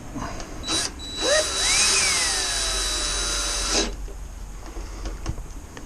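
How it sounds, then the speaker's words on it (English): A power screwdriver drives screws into the plastic windscreen of a BMW R1250RT motorcycle, giving one close whirring burst of about three seconds, rising then settling, with faint clicks before and after. "Just going to screw them in."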